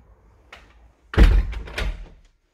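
The front door of a house opens with a soft knock, then swings shut with a heavy, close thud and a short rattling settle, and the room falls silent afterward.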